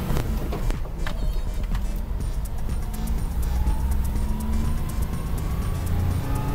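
A manual-transmission car drives along a street during a driving lesson in Korea, its low engine hum steady and continuous at close range, with faint road and traffic noise around it.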